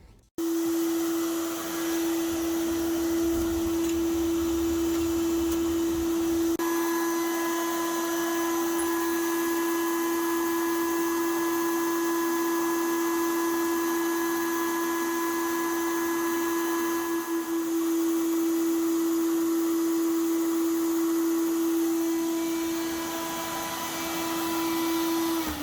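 Parts for a Fiat Punto GT Turbo restoration being abrasive blasted inside a blasting booth, a loud, steady hissing roar with a constant whine that runs unbroken close up for the whole stretch.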